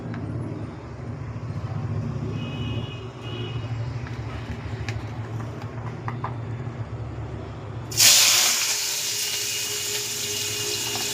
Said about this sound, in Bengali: তো এবার আমি পেঁয়াজটা দিয়ে দেবো।